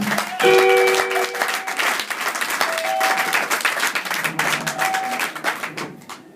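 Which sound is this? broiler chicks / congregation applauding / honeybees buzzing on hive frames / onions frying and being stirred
congregation applauding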